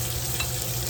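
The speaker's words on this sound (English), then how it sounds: "when you're frying, do not want to crowd the pan" Food frying in a crowded pan during home dinner cooking, a steady close sizzle and crackle filling the short moment with no voices.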